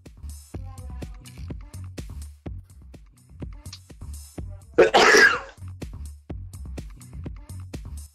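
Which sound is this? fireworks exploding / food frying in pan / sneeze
sneeze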